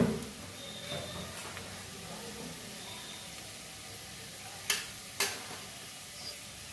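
Nigella seeds and garlic crackle and sizzle faintly in hot mustard oil in a pan, a low steady frying hiss with a couple of sharp pops near the end.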